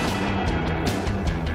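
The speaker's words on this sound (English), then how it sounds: "Will shooting bullets at the gas tank actually make it blow up?" Gunshots are fired at the gas tank of a Cadillac on a shooting range, several sharp loud reports packed close together over a heavy rumbling background.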